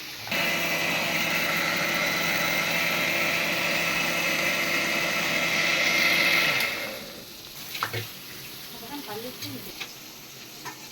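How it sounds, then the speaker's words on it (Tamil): A mixer grinder grinding coconut, fennel and green chilies gives a loud, steady motor whine for about six seconds then stops, leaving faint clinks and quiet handling sounds. "இப்போ அரைச்சிக்கிட்டு வந்துடலாம். தேங்காய், சோம்பு, பச்சை மிளகாய் 3 அரைச்சிக்கணும்."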